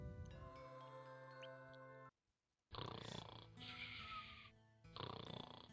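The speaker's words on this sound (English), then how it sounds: "Can we take a moment to appreciate this snoring?" A character snoring in Final Fantasy VII, with steady, drawn-out snore phrases that repeat over game music, then break off into a short silence before more snoring resumes.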